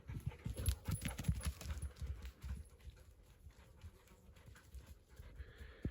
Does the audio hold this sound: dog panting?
yes